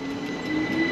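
A train heard from a gravel bike ride in Austria, giving a steady rumbling drone with a sustained high wheel squeal, moderately loud and continuous through the whole short moment, with no talking.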